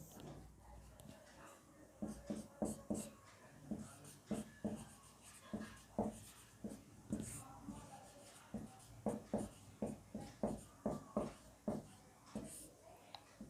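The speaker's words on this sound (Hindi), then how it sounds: "यहाँ पे लिखते हैं" Pen writing on a board or page during a Hindi-medium class 10 physics lesson on light. Close, rhythmic scratchy strokes come in bursts, with faint talk in the background.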